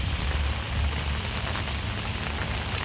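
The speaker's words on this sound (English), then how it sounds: "It's a rainy day" Steady rain pours down on a rainy day, a dense, even patter on surfaces close by with no pauses and no voices.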